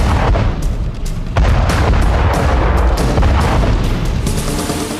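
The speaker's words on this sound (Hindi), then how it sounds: "अगले ही पल बाहर निकला, फिर सीधे होटल के रेस्टोरेंट में पहुंचा और धमाका हो गया" A bomb blast tears through a hotel restaurant in Colombo as a loud, sustained roaring boom, with a heavy low rumble and crackling bursts. It is close and overwhelming, with no voices.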